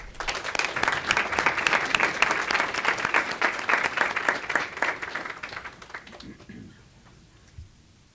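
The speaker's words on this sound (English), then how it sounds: "Let's give one more round of applause for everyone." An audience at a Hamilton County commission meeting breaks into dense, sustained applause close by, many hands clapping loudly for several seconds before tapering off to a few scattered claps.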